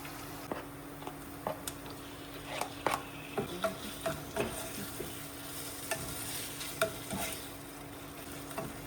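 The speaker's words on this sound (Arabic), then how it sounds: "هلا رح احمص البصلة وبعدين بدي انزل عليها الشيش" Onion frying in a pan with a steady, gentle sizzle, broken by irregular clicks and scrapes as a utensil stirs it, close and moderately quiet, with no voices.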